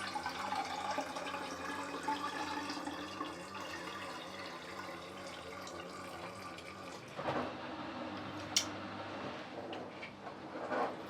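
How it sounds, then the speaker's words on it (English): Filtered water is poured by hand into a container, a close, quiet trickling and splashing that runs steadily and then shifts, ending with a few sharper drips and splashes. "I'll just take some of my filtered water already. I'm gonna pour it in here."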